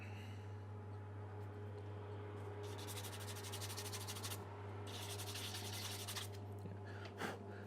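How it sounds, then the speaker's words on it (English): Two bursts of rhythmic back-and-forth sanding on a plastic scale model tank part, close and fairly quiet, with a short pause between them. "one thing to definitely do while you're sanding"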